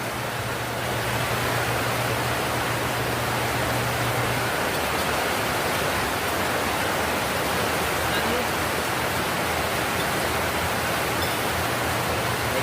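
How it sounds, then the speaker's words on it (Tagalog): Heavy rain pours steadily onto a house roof as a loud, unbroken wash of hiss, with a low hum underneath and no breaks. "Taas po ng ulan eh. Dinig na dinig sa bubong."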